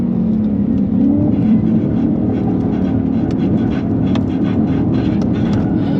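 Inside a Ford Mustang GT 5.0 on the Nürburgring, the engine gives a loud, steady droning roar at constant revs, with road and wind noise and faint rattles on top.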